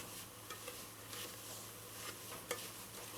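Semolina and almonds roast in a pan for Greek halva while a utensil stirs them, producing quiet, continuous scraping and a faint dry sizzle with a few sharper scrapes.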